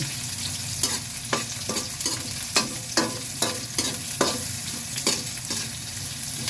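Ginger, garlic and onion sauté in a hot pan with a steady sizzle of frying oil, while a utensil scrapes and stirs in irregular, close-up strokes about every half second. No voices.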